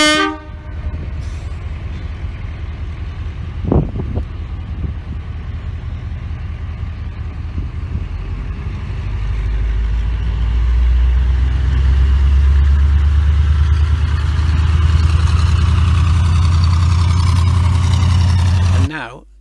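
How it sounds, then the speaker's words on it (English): Two Beyer Peacock Hymek Class 35 diesel locomotives, D7017 and D7018, running with a deep, swelling engine drone that grows louder and heavier as they approach, plus a brief horn-like tone early on and people talking in the background. "Our two Bayer Peacock Hi-Mec Class 35 locomotives, D7017 and D7018."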